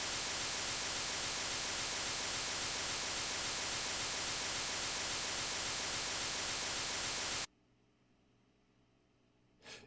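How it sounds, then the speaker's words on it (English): Bright white noise from a Serum synth patch hisses steadily and loudly for about seven seconds, then cuts off abruptly, leaving near silence with a faint thump at the very end. "I'm gonna change the sound of the noise to the bright white noise."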